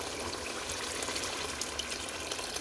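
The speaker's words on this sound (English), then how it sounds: "Now it's time to add in the water." Water pours steadily into a pot of chicken and chickpea curry, a continuous close rushing gush with no talk.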